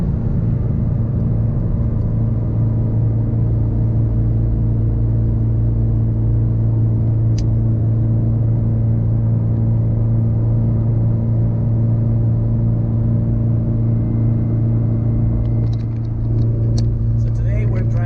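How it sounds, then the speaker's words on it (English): A Subaru BRZ's engine gives a loud, steady low rumble throughout while the car is driven, a continuous close-up drone with faint rattles near the end. "probably the car is loud"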